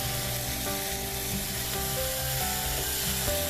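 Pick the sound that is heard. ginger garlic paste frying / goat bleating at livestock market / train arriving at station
ginger garlic paste frying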